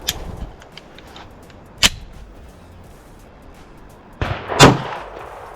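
Glock pistol loaded from a Magpul PMAG magazine fires two sharp, loud shots a few seconds apart, the second followed by a short mechanical rattle, with quiet outdoor air in between.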